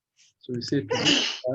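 A single sharp sneeze bursts out close by, sandwiched between short bits of a man's speech.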